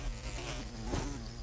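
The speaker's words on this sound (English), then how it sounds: "there's an angry bee" An angry bee in the Minecraft video game buzzes in a steady, dense drone. The buzz stays close and continuous for the whole moment, with no talking over it.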